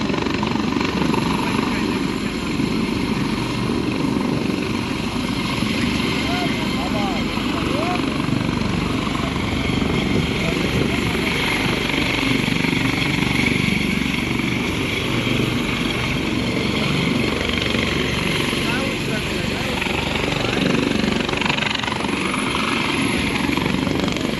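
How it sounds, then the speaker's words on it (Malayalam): A helicopter carrying India's Union Home Minister lifts off at an election campaign rally in Begusarai, Bihar, its engine and rotors a dense, constant roar that stays loud and close for the whole stretch. "കേന്ദ്ര ആഭ്യന്തരമന്ത്രി അമിത്ഷാ സഞ്ചരിച്ച ഹെലികോപ്റ്റർ ടേക്ക് ഓഫിനിടെ അല്പനേരം നിയന്ത്രണം വിട്ടു പറന്നു"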